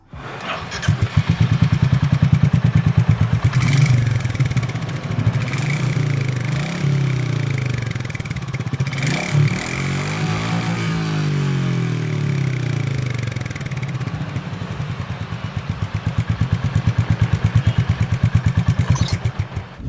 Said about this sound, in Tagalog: here's the sound of the stock exhaust